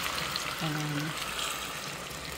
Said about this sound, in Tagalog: ilalagay na natin yung marinate natin guys